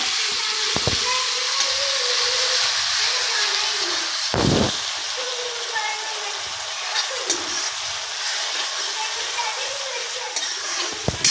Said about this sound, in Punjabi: ਹੁਣ ਅਸੀਂ ਇਹਦੇ ਵਿੱਚ ਟਮਾਟਰ ਅਦਰਕ ਜੋ ਵੀ ਹੈ ਅਸੀਂ ਇਹਦੇ ਪੇਸਟ ਐਡ ਕਰਾਂਗੇ ਜੀ